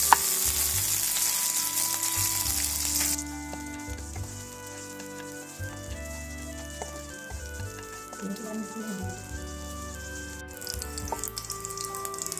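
Ingredients for curry leaves pachadi fry in a pan, giving a loud, steady sizzle while being stirred, with repeated scraping strokes and a few sharp clinks of the spoon, and no voices.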